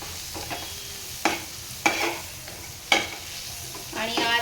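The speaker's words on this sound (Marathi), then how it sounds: "ते सुद्धा मसाल्यामध्ये छान मिक्स करून घ्यायचं आहे" Dried bombil fish being stirred into frying masala in a pan, a close sizzle punctuated by several distinct scraping strokes of a spatula at uneven intervals, with no one speaking.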